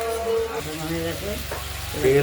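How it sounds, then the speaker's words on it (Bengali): Spices and fish sauté in hot oil for a fish curry of cut catla with potato, tomato and coriander, a steady close sizzle with soft stirring that continues under a woman's speech. "তেলটা বেরিয়ে গেছে দেখতেই পাচ্ছেন, কষানো হয়ে গেছে।"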